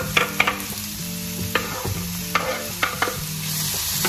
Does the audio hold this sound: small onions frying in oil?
yes